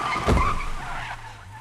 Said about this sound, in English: Jeffrey steals Harper's car and attempts to run her down with it